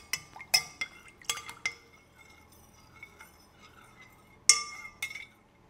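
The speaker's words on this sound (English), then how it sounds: "And start mixing again." A utensil clinks against a glass bowl while jelly mixture is stirred in a home kitchen, with sharp bright taps in irregular clusters, a pause in the middle, and two louder clinks near the end against a quiet background.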